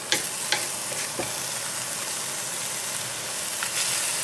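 Pineapple, vegetables and chicken stir-fry in a crowded pan, a steady loud sizzle broken by a few sharp scrapes and knocks of the stirring utensil near the start and end.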